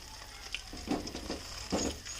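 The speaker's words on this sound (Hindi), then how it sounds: "और इसे गोल्डन ब्राउन होने तक फ्राई करें" Semolina gulab jamun balls frying in oil in a kadhai, a soft bubbling sizzle with a few louder bursts as the pan is gently shaken, close and without speech.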